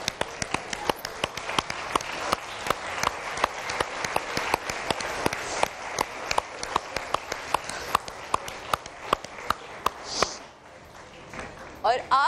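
Audience applause at a televised Pakistani singing competition, a steady run of sharp claps sustained for about ten seconds before fading, with a voice speaking near the end.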